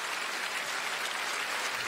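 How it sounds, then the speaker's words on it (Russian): Audience applause at a large comedy concert, a steady dense wash of clapping from many hands, fairly soft and distant, with no talk over it. "Аплодисменты всем жителям нашей страны"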